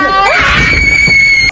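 A girl screams hysterically in a horror film, one loud sustained high-pitched shriek that rises and holds for over a second before cutting off abruptly.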